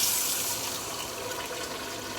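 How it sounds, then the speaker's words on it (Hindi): About half a cup of water pours into a cooking pan of frying tomatoes for Lahori-style kadhi kofta, a continuous splashing, sizzling wash of liquid with a small sharp knock at the end. "अब इसमें तकरीबन आधा कप पानी शामिल करते हैं"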